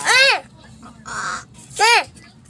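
Crows call nearby in three loud, harsh caws, the first and last strongest, with a softer call between them, and no talk over them.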